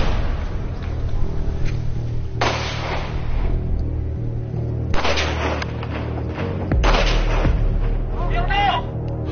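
A soldier climbs and fires at targets during a scout competition abroad: three loud, well-spaced rifle shots ring out over steady low rumbling background noise.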